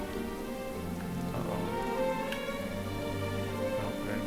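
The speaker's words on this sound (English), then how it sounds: "I really do hate rain." Steady rain patters in the video game Final Fantasy XV, a constant wash of falling drops at moderate level with a faint low hum beneath and no talking.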